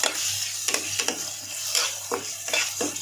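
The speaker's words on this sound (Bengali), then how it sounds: "পেঁয়াজ দিয়ে দিলাম করছিলাম তো না না পেঁয়াজটা ভাজি হোক" Onions sizzle in a pan while a utensil stirs them, a steady frying hiss punctuated by repeated scraping strokes against the metal, close and clear.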